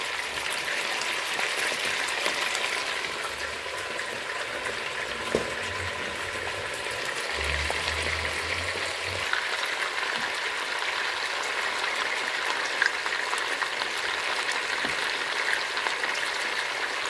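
Chicken browning in a frying pan, a steady dense sizzle of hot oil that runs continuously and evenly, close and moderately loud, with faint low clunks partway through.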